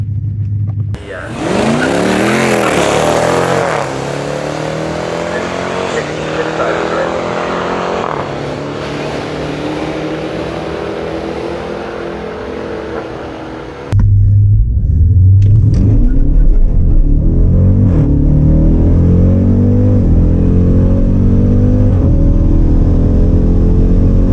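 A 2018 Jeep Grand Cherokee Trackhawk at full throttle on a quarter-mile run, a loud roaring engine with rising revs and gear shifts heard from inside, swelling into a heavier rumble partway through.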